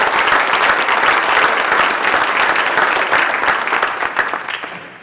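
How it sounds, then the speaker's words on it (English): Audience at a Hall of Fame and distinguished alumni banquet claps loudly and steadily, then the applause slowly fades toward the end. "We should give you all a round of applause."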